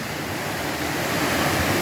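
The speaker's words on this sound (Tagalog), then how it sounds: "dito bumabagsak itong napakalakas na agos ng tubig." A powerful torrent of river water pouring down from a mountain in front of a house, a continuous loud roaring rush of falling water with no voices.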